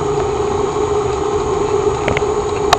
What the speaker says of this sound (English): now I'm going to go ahead and put my KitchenAid down. And we're going to stir that up.